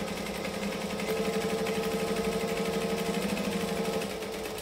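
A sewing machine stitches fabric in one steady, close, rapid mechanical whir lasting several seconds, with a slight shift in pitch near the end.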